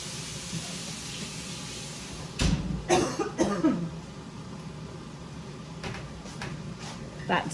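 A person coughing a few times after inhaling smoke, in a short harsh cluster of close coughs over a quiet room hiss, then a few faint knocks.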